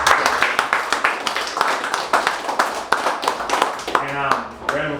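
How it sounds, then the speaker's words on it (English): A sports team gives a round of applause for Jack Hunter and Bob before a rural Australian Sunday League football match; loud, close claps in a quick uneven rhythm, with voices speaking and cheering over them throughout. "Let's all give a round of applause to Jack Hunter and Bob."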